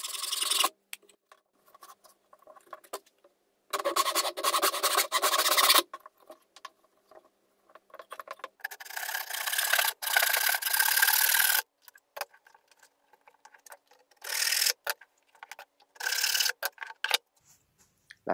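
Rough, rhythmic hand-sawing through wood clamped to a workbench, cutting out a cam shape, in long bursts separated by pauses, close and fairly loud, with no talking.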